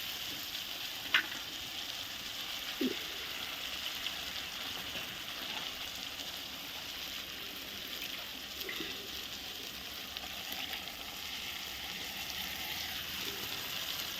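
Masala and potatoes fry with a splash of water in a pan over a wood-fired stove for a rohu fish curry, giving a constant, even sizzle with a few faint stirring knocks.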